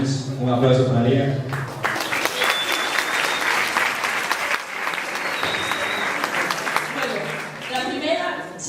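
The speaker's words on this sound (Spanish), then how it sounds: "Un aplauso para Liga" An audience at a school film festival breaks into steady, close applause lasting several seconds, with voices speaking just before and as it tapers off.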